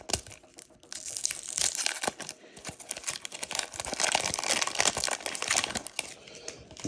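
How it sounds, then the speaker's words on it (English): A 1992 Stadium Club Series 2 card pack being torn and peeled open up close, a continuous run of crinkly foil rips and crackles with brief pauses, fairly loud and with no talking. "We now are going to go to 1992 Stadium Club Series 2. These packs are always hard to open."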